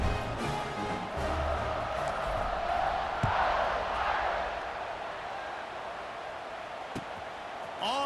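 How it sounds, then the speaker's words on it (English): A stadium crowd in the College Football 26 video game roars with a steady, sustained cheer before a fourth-quarter kickoff, a broad continuous wash of noise throughout. "this crowd now ready to get behind them"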